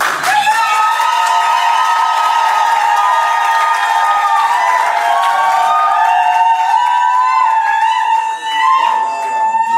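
Guests at a Cameroonian wedding cheer and applaud together, high sustained voices rising over a steady wash of clapping that carries on without a break.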